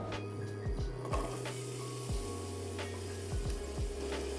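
Onions sauté in olive oil in a pan, a soft steady sizzle and crackle heard close up with no talking.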